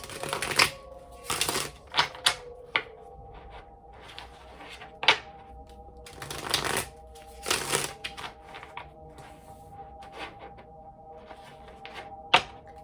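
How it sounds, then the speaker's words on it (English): Tarot cards being shuffled and drawn during a reading, giving a series of crisp papery riffles and snaps spread irregularly across the moment, close and moderately loud, with a low steady hum underneath and no talking. "Let's pull one final card to end your reading."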